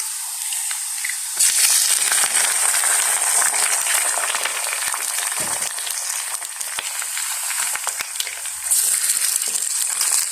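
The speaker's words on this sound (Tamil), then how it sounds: "இப்போ வந்து வெங்காயம் பொரிஞ்சு கொண்டு வந்துடுது" Onions and green chillies frying in a pan, a bright, steady sizzle that swells loudly after the first second and hisses on without pause, close up with no talk.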